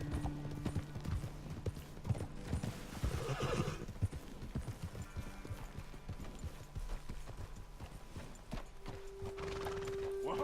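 Horses trotting in Red Dead Redemption 2, with rhythmic hoof clip-clops and a brief whinny, moderately close over a steady outdoor ambience.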